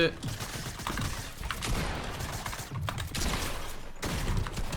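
Rapid video-game gunfire crackles in quick bursts at the front, with a voice talking over parts of it.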